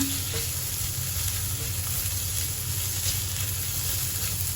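Pork stir-fried with red curry paste in a hot pan, giving a steady dense sizzle and hiss with a low rumble, continuous and close, faint scraping now and then, no talking.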